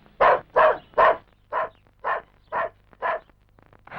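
A dog barks seven times in a steady rhythm, loud and close, the first three barks strongest and the later ones slightly softer, with a faint low hum underneath and no talking.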